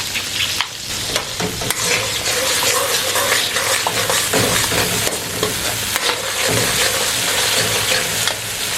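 Tomato and ground spice masala sizzles and fries steadily in ghee, with continuous crackling and occasional stirring scrapes, loud and close with no talking.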